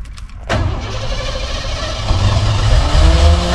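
A Ford F-150 pickup engine cranks briefly and catches, then settles into a steady, loud running rumble close by, with no talking.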